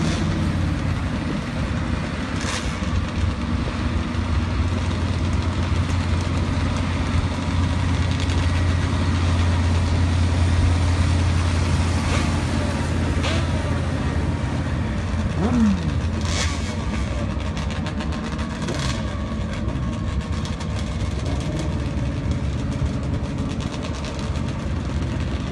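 Pro drag racing motorcycles sit idling at the start of a sand drag strip, a steady low engine rumble heard from a distance for the whole stretch, with no voices over it.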